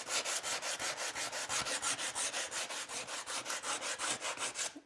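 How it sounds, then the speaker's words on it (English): Steady, rhythmic rasping strokes of 80-grit sandpaper rubbing back and forth over a lump of firewood, close up and continuous with no talking. "and then start sanding"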